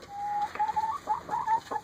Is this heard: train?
no